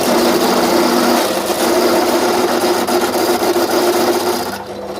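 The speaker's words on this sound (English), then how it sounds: "first thing I'm going to do is go and drill these brackets that we're going to use to bolt down the bottoms" Power drill boring through metal brackets for a budget shed extension, a steady loud whining grind that runs nearly unbroken and eases off near the end.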